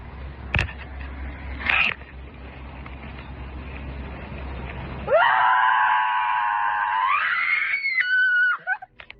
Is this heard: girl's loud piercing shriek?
yes